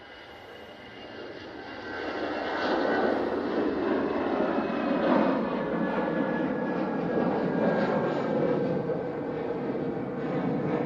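An EasyJet Airbus A320-200 takes off at Manchester Airport, its jet engines swelling into a broad, steady roar that holds strong and fairly close for the whole stretch, with no voices over it.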